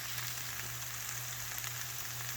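Skillet potatoes from a Great Depression recipe frying in a pan whose bottom is burning, making a soft, steady sizzle over a low constant hum, faint and continuous with no talk.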